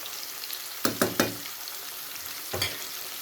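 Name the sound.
fish frying in oil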